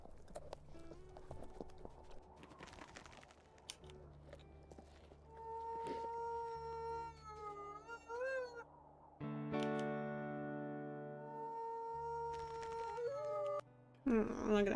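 A wolf howls in the WolfQuest video game, with rising and falling tonal cries and harmonics layered over game ambience and soft footfalls. Several howls overlap and grow fuller near the end.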